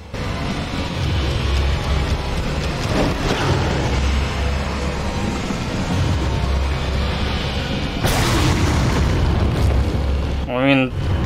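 Fire grenades go off in the video game Resident Evil 4 Wii Edition with steady, rumbling booms and bursts under continuous game noise, and a person talks throughout.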